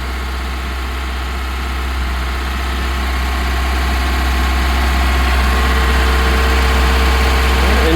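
A Ford Cortina P100 engine idles after warming up following seven months of not running, a loud, steady low rumble with a constant throb that rises slightly in intensity.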